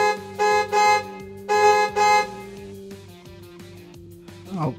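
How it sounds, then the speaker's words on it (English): School bus horn in the School Bus Simulator video game, four loud, close honks in a quick rhythm over a low engine drone, then a fainter tail. "Honk the horn on them."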